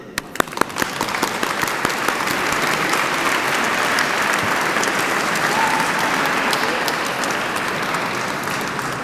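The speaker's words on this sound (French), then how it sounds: "je vous propose que vous vous applaudissiez." A seminar audience claps for itself, steady dense applause filling the room throughout, with a few sharper nearby claps at the start.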